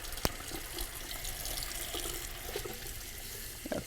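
A kitchen tap runs into a sink as it fills with water for washing collard greens, a steady close rushing splash with an occasional small clink.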